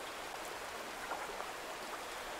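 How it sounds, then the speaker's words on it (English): Steady rain falls during fishing in Roots of Pacha, a soft, even hiss of drops with no voices. "fishing in the rain is amazing"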